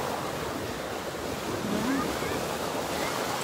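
Ocean waves at Del Mar beach in San Diego, a steady broadband surf wash with wind noise buffeting the microphone throughout, continuous and fairly loud with no distinct breaks.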